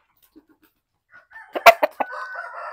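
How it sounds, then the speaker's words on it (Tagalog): Sampin hens on a small backyard poultry farm give a short burst of close, fairly loud clucks and squawks after a near-silent start, with no talk. "So actually 8 lahat yung ating mga inahin na sampin dito."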